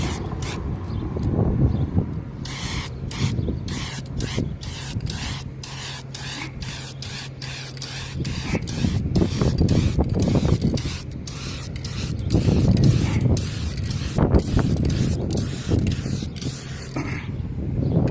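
Bursts of spray from a Rust-Oleum Turbo aerosol paint can hiss repeatedly in short and longer pulses, close to the microphone, with faint mechanical creaks between.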